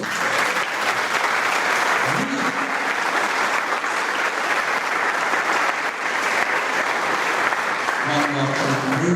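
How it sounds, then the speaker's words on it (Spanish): A church congregation bursts into loud, sustained applause, dense clapping that holds steady for several seconds with faint voices mixed in. "Denle un fuerte aplauso a nuestro Dios."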